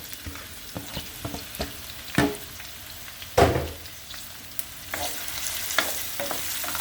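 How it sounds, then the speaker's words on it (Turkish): Green and red peppers dropped into hot garlic-flavored olive oil and stirred, a steady close sizzle punctuated by several sharp clanks and scrapes of the utensil against the pan. "Şimdi e, yeşil biber ve al biberimi içerisine bırakıyorum."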